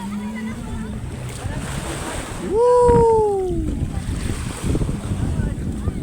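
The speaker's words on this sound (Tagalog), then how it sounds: "Tumalakas na yung alon, guys." Rough surf roars and churns continuously with wind rushing across the microphone, and a person lets out a whooping shout partway through.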